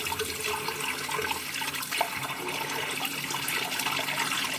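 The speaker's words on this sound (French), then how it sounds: "vous allez entendre de l'eau." Hot water runs from a tap in a steady rushing, splashing stream, close and fairly loud, with no voices over it.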